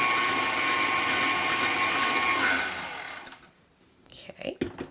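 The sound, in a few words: stand mixer mixing vegan gluten-free donut batter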